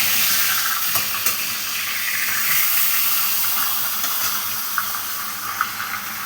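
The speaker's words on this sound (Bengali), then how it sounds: "মাছের মাথাটাকে লাল লাল করে ভেজে নেব" Fish head frying in hot oil for a Bengali gaati kochu dish, giving a steady close broadband sizzle and hiss with a few small pops and crackles throughout.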